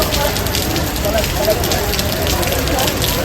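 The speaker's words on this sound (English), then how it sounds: "It's been raining all afternoon," Steady rain falling during an afternoon downpour in Barcelona, Spain, near the Sagrada Familia, a loud dense continuous patter with crackly drops across the whole stretch.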